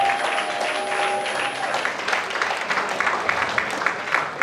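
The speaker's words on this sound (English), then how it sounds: "I was expecting you to clap for yourself." A sustained round of applause from a large audience at an awards night, a thick continuous wash of clapping held at a fairly loud, steady level.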